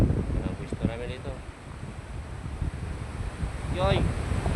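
Gusty, cold wind roars steadily into the microphone by the sea in Quezon, with distant voices briefly audible underneath.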